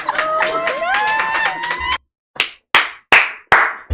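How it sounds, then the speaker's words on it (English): A crowd claps and cheers for a newly engaged couple at a reunion show, with lively voices mixed in, then the sound breaks into a few loud, separate claps spaced about half a second apart. "Clap it up for them, bruh."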